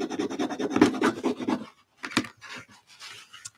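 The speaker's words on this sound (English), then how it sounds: "Now let's burnish that down." Strong tape on a paper art journal page is burnished down with a rubbing tool, making close, rhythmic scraping strokes that stop briefly before a few softer rubs.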